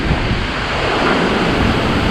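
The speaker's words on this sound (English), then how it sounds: "we still got a hurricane going on" Hurricane Ida roars through as a loud, unbroken rush of storm wind battering the microphone, dense and close with no pauses.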